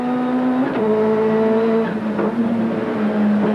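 A Ford Sierra race car, a turbocharged touring car, climbs hard up through the cutting at Bathurst after Repco Corner, its engine holding a strained steady note with an awkward gear change partway, loud and close, with no talk.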